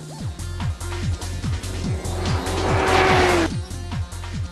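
A motorcycle pulls a long wheelie run down an airport runway, revving hard and climbing through the gears in quick repeated rising sweeps, loud and close, ending in a rushing pass.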